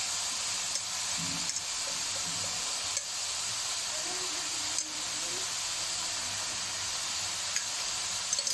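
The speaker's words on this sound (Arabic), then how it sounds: "درت البصله غادي تشحر" Chopped onion frying in a pan with salt: a continuous bright sizzle and hiss, close and steady, broken by faint stirring clicks and scrapes.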